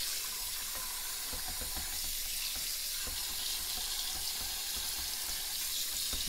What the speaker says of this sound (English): I'm gonna fill that pot up with some